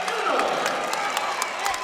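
Wrestling crowd at Huff Hall applauding and cheering during a 197-pound bout, a steady wash of clapping and murmur with a commentator talking over it.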